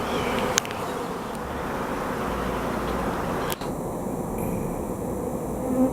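A honeybee swarm arrives at a nuc hive, filling the air with a dense, steady buzzing drone, close and continuous from start to finish, with a few faint knocks and no talk.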